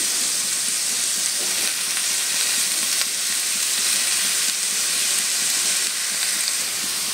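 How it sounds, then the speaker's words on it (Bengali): Banana stem (thor) with turmeric and sugar is stirred in a pan, giving a steady, fairly loud sizzle with soft scraping throughout and no talking. "এবার একটু নেড়ে নেব"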